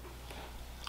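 Taco Bell Cheddar Crisps, a cheesy cracker snack, crunch softly as they are chewed close up, a steady quiet munching with a few sharper crisp bites.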